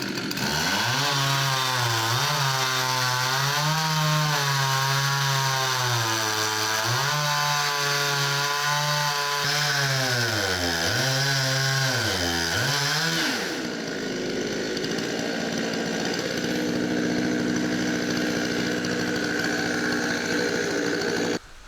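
A chainsaw mill rips along a log to cut boards, its engine droning loud and close with rising and falling pitch under load, then dropping to a rougher idle-like run near the end.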